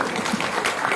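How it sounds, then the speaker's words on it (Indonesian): Brief burst of audience clapping for a regent at a parenting seminar, dense and close, over a murmur of voices. "Tepuk tangan untuk Pak Bupati."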